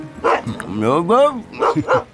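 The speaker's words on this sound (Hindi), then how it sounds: "कुत्ता क्यों भौंक रहा है?" A dog barks and whines in a comedy film scene: short yelps, then a drawn-out, wavering howl-like cry, close and loud. A voice may be mixed in.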